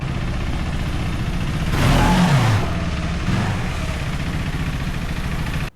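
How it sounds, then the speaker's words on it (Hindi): A KTM 390 Enduro motorcycle crawling in first gear without throttle, a low, steady single-cylinder engine drone close by, briefly swelling with a passing whine midway before settling back to an even idle-like putter. "एक्सेलरेट नहीं कर रहा हूँ, पर ये धीरे धीरे क्रॉल कर रहा है, स्टॉल नहीं होगा फर्स्ट गियर पे।"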